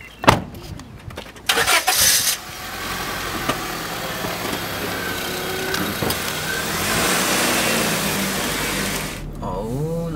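A stolen principal's car drives along with a steady engine hum and road rumble lasting several seconds, preceded by brief clunks and bumps, with occasional voices.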